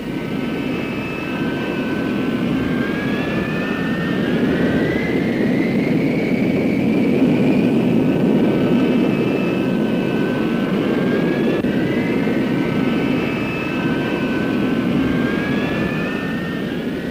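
An F-100 jet fighter with an afterburning J-37 turbojet roars continuously, its whining engine tones sliding up and down as it passes. The sound is loud and sustained, with no speech.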